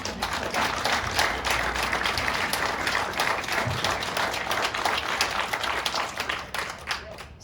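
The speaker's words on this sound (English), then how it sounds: "So if everyone can just take a moment and applaud everyone and everything that has gone into this building." Sustained applause from an audience at a building ceremony, dense clapping from many hands holding steady for several seconds before thinning out near the end.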